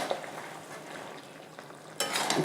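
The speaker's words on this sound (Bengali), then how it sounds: "একটু নাড়াচাড়া করে দিলাম।" Chicken curry made with country chicken is stirred in a pan over the gas, giving soft, steady scraping and low frying noise that swells into a louder, brighter sizzle near the end.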